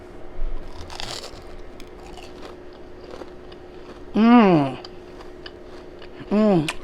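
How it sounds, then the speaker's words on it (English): Biting into crispy fried chicken mushrooms, with two loud, close crunchy bites standing out from quiet background murmur and faint voices. "Crispy. Get a bite. Crunchy on the outside."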